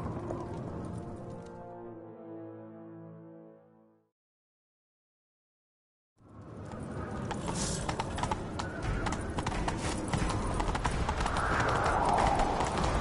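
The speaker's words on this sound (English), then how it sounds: "Grab a horse, we'll chase him down." Horse hooves clip-clop at a gallop in The Witcher 3, a steady run that cuts out briefly into silence, then resumes with louder, busier hoofbeats, and a whinny rises near the start.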